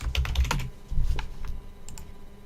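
Rapid keystrokes on a computer keyboard while entering a recurring work event into a calendar: a close, busy burst of clicks at first, thinning to scattered taps, with no talking.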